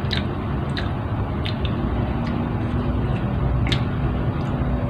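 Fried, overripe Ambon banana with a crunchy coating is bitten and chewed close up. Crisp, crackly bursts repeat irregularly over a steady background hiss, with no speech.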